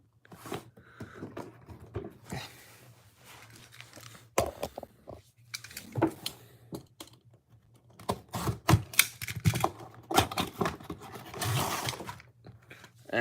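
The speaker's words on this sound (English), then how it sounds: "let's get these guys out of packaging" Toys from a Sonic x Transformers set being unboxed, heard as close crinkling, tapping and rustling of plastic packaging in irregular bursts that grow busier toward the end.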